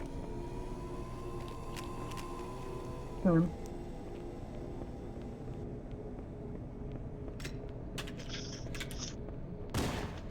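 Gunfire from the video game Halo: Combat Evolved during a Legendary speedrun: a short, loud burst of shots around a third of the way in and another near the end, over a steady hum of game ambience.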